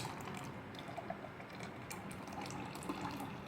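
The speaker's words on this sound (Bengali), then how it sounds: "ঠান্ডা জল অ্যাড করব" Cold water poured into a masala chaas drink made from yogurt, a steady close splashing pour that runs evenly throughout without voices.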